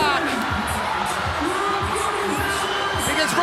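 An arena crowd at Kudos Bank Arena cheers and whoops during a fitness race, a continuous roar of shouts with a commentator's voice talking over it.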